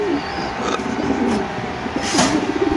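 Pigeons cooing at a pigeon farm, soft low rolling coos repeating close by over a steady hum of background noise.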